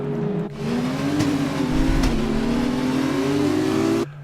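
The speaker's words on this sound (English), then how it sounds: "Oh, this car sounds so cool." An F2 race car engine in a racing video game, revving loudly and steadily with a rising and falling whine through a formation lap at Bahrain, heard alone with no talk.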